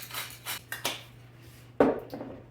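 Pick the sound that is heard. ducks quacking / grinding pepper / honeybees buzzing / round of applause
grinding pepper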